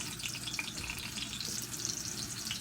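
A potato latke fries in hot oil, giving a steady, close crackling sizzle with light irregular pops throughout.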